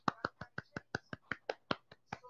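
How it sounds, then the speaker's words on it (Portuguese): At a cultural event, sparse, crisp hand claps ring out in a quick, regular rhythm, about a dozen sharp claps close by against a quiet background. "Palmas para Josi!"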